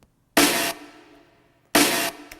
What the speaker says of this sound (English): I've absolutely smashed it as much as I possibly can and then put it through Punish.